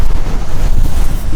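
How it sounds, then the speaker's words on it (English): Strong wind buffets the microphone on coastal cliffs along the Dorset Jurassic Coast, a loud continuous rumbling roar with gusty swells and no speech. "My lord, it's windy."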